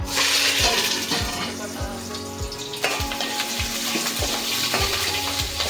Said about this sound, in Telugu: సో ఇప్పుడు ఆనియన్స్, కర్రీ లీవ్స్ వేసుకుంటున్నాం